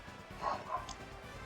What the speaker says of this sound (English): sorry about the dog barking in the background if you can hear that